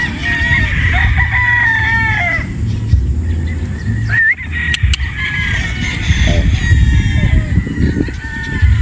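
Boston Roundhead gamefowl roosters crowing loudly at a game farm, with repeated overlapping cock-a-doodle-doo calls and clucking close by, one bird after another over steady farmyard noise.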